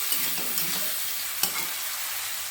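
Tomatoes with salt being stirred and sautéed in a pan, a steady close hiss of sizzling with a few sharp scrapes and taps from the spoon, moderately loud, with no talk.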